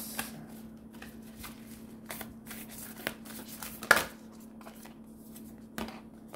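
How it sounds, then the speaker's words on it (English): Moonology Oracle cards are shuffled and pulled from the deck in soft, continuous riffling and sliding, with a few sharper snaps and flicks, close and quiet against a steady low hum, no talking. "let's go ahead and pull a card from my Moonology Oracle cards"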